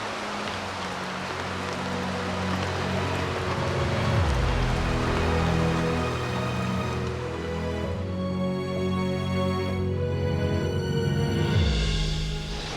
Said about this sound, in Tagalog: gusto niyo magpatila muna kayo ng ulan dito?